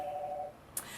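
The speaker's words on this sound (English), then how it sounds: "That's my phone ringing" A mobile phone rings during a live talk, a steady electronic tone holding for half a second before cutting off, followed by a brief high chirp.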